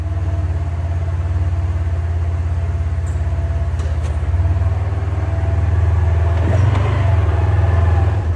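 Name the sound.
Polaris RZR XP1000 side-by-side engine on test drive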